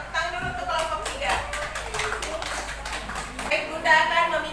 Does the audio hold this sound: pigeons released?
no